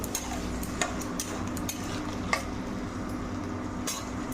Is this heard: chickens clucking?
no